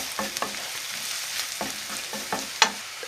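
Onion frying in a pan as spices are stirred in, a soft steady sizzle broken by several light scraping stirs and one sharp clink of a utensil against the pan; no voices.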